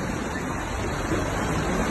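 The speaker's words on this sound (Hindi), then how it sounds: "जब समंदर शहर में इस तेजी के साथ घुस आया भूकंप के बाद।" Tsunami seawater surges into a city after an earthquake in Turkey and Greece, a dense, continuous rushing roar like a torrent, steady and fairly loud throughout.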